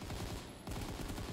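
A light machine gun fires in a zombie video game, a loud dense stream of rapid shots with one brief gap before the burst resumes, close and continuous.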